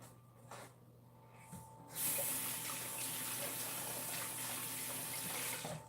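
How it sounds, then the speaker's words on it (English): Water runs steadily from a tap into a sink as hands are washed, starting after a quiet moment and continuing as a broad, even splashing hiss, fairly close. "I'm going to wash my hands."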